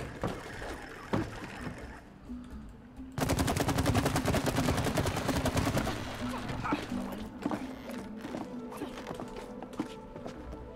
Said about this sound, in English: Shooting at Charizard